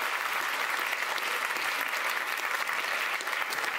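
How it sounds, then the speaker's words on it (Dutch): Steady applause from an audience at an Amsterdam election debate, dense clapping that holds at an even level from start to end with no voices on top. "Ik wil altijd eerst een warm applaus voor mijn mede-collega's Ruben Koops en Michiel Cousy."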